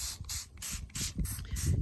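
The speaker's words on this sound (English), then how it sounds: "When you spray, you want a nice fine spray." A hand spray bottle mists plant leaves to treat bugs, giving about six short, soft hissing bursts in quick, even succession, close and quiet with no talk.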